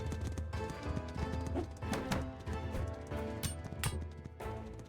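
Horse hooves clatter in a busy, irregular patter amid battle noise in the video game Totally Accurate Battle Simulator, with jousting cavalry charging among melee units.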